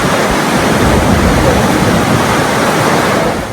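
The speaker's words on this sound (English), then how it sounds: "it's why we love waterfalls" A waterfall rushing in a national park, a loud, constant, full roar of falling water close by, unbroken throughout with no voices.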